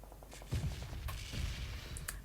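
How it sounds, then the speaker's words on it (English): Gunfire in the PUBG video game rings out as a string of sharp shots, some quick and clustered, others spaced apart, over a busy background of game noise. "And Team 6 are still firing shots there."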